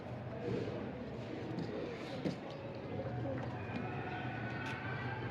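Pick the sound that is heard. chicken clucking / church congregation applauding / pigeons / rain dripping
pigeons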